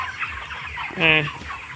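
A chicken gives a short, close cluck over a faint background of other poultry.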